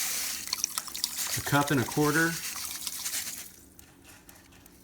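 Kosher salt poured into a turkey brine makes a steady granular hiss for about three seconds under a speaking voice, then the sound stops.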